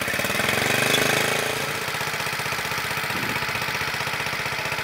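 A vintage Honda CT70 mini trail bike with an 88cc big bore engine idles steadily on its first fire-up, a close, even mechanical chatter with a slight swell in the first second before settling into a constant rhythm.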